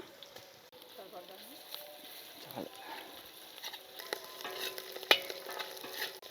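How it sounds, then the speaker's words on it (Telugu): Ginger garlic paste frying with onions and green chilies for an Andhra fish dum biryani, a faint close sizzle with scattered stirring scrapes and clinks, fairly quiet throughout. "ఉల్లిపాయ పచ్చిమిరకాయ వేగిన తర్వాత ఒక 2 చెంచాలు అల్లం వెల్లుల్లి పేస్ట్ వేస్తున్నాను"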